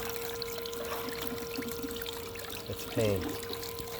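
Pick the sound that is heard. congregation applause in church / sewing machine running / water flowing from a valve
water flowing from a valve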